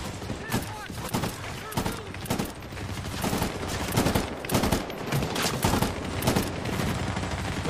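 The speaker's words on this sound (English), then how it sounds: "Where am I getting shot from?" Dense gunfire in the Medal of Honor: Warfighter beach assault, with rapid bursts and heavy volleys firing continuously, loud and close, alongside occasional thuds.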